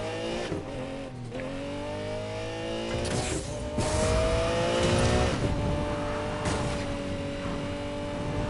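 A Lamborghini Murcielago supercar in Need for Speed Payback, its engine revving and shifting through rising pitch sweeps with tire squeal and skidding bursts partway through, loud and close, with no talking.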